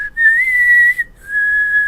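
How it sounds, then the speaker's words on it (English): A person whistles a short tune, two clear sustained notes with a brief break between, close and alone without talk. "I can whistle it"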